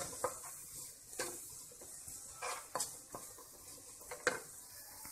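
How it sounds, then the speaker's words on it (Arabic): Salted ingredients and herbs mixed together in a dish, with quiet scraping and clinking of a utensil against the bowl in an irregular stirring rhythm, faint and close. "نخلطوا العناصر كامله"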